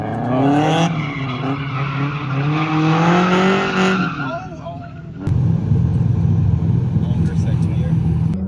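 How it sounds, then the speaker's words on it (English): A Nissan 350Z drift car runs on a skid pad, its engine roaring with sustained tire squeal and rumble, close and loud, and a person talks over the first part. "this is my first lap in the 350Z after doing a sight lap"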